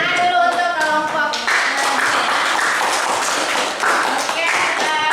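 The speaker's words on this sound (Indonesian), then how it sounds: "Tepuk tangan dulu untuk kelompok." A classroom claps for a presenting group, a loud burst of many hands clapping over a voice, with chatter underneath throughout.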